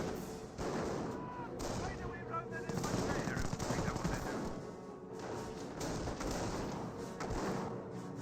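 Gunfire in Company of Heroes 1, with Wehrmacht and British forces fighting: dense battlefield shooting with machine-gun bursts and heavy thumps, continuous and layered at a moderate level.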